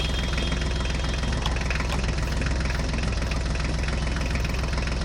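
Continuous low engine drone with a steady knocking rumble from a running toy tractor, loud and close, unchanging throughout with no talk.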